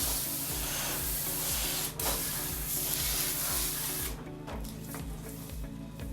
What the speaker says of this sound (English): And then we'll change this to a super mist spray.